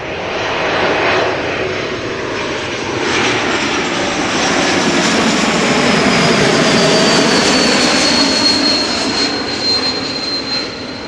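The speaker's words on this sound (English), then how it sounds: "The geared turbofan whistle." A jet airliner roars past at close range, a broadband engine rush with a steady high-pitched whistle riding on top, swelling and holding loud throughout.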